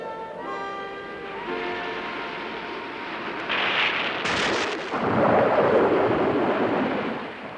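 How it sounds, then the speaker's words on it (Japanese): A storm at sea in an animated Little Mermaid fairy tale: a rumbling roll of thunder and a surging rush of wind and waves grow louder, with soft musical tones fading at the start. "あいにくそれは嵐の日でした。"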